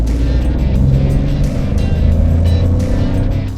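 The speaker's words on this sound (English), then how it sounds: "when you will be revving it hard, the engine tends to growl" A Citroen C3 Aircross automatic is driven on the road with its engine revved hard, giving a loud, continuous growling drone with a deep rumble and rising pitch, close and without talk.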